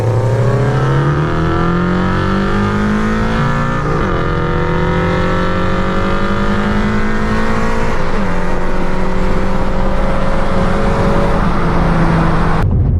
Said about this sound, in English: I'm gonna give it a good second gear pull right now.